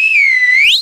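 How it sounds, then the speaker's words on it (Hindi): Whistle sound effect in a comedy show: a single loud, clean whistle tone, held and dipping slightly before sweeping upward at the end, under a second long. "अरे सीटी तो हमको देख करके पूरा मोहल्ला मारता है।"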